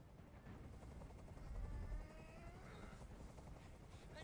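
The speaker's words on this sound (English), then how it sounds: "Tell that helicopter to get out of here." A helicopter in Detroit Become Human throbs with a low, continuous rumble of rotor noise that swells briefly midway, with a thin, steady whine above it.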